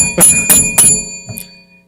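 A boxing round bell is struck three times in quick succession, each ring sharp and metallic, and the last tone fades out. No voices are heard.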